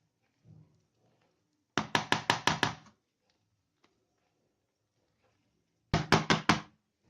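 Two quick bursts of sharp knocking taps on a cake tin to release air bubbles, five or six raps each, with a silent gap between; close and fairly loud, no talking.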